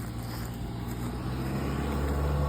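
On a busy street, a car engine drones steadily and swells louder toward the end as a vehicle passes close by.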